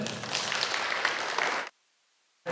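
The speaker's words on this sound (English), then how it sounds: "love to give a round of applause" Audience applause at a school board meeting, a dense burst of clapping lasting under two seconds that cuts off to silence before a fresh round begins at the end.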